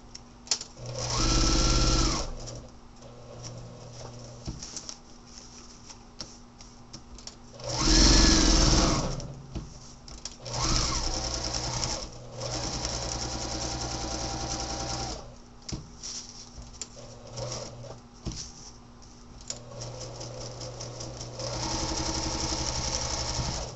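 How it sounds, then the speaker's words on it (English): A sewing machine runs a basting stitch around a paper-pieced quilt block in several separate bursts of whirring, with quiet pauses between runs, heard close up. "Now you're going to stitch all the way around in a basting stitch."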